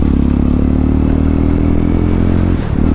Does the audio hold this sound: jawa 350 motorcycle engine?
yes